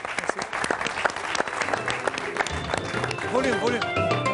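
A studio audience on a French talk show applauds a singer, with lively clapping mixed with voices and the start of music and singing as the performance begins.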